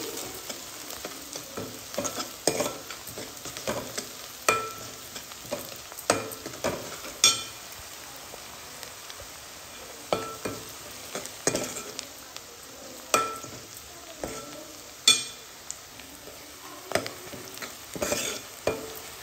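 Onions stirred in a pan with turmeric and a pinch of salt give a soft, continuous sizzle, broken by frequent sharp scrapes and clinks of a spoon against the pan at an uneven rhythm.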